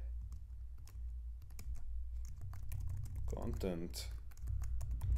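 Typing a terminal command on a computer keyboard, with steady, close key clicks throughout over a low hum. Someone speaks briefly partway through.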